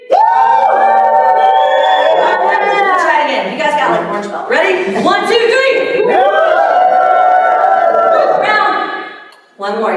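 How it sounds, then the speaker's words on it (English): An audience at a martial arts business event cheers and whoops on cue, a loud, sustained wall of voices lasting several seconds before cutting off, close and dense. "I'm going to ask you guys to cheer."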